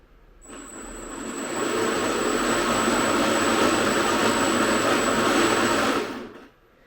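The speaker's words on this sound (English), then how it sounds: "And now we are going to fire up our throttles." Model submarine motors spin up on the throttles with a steady, loud whine and a high thin tone, holding level for about five seconds before cutting off.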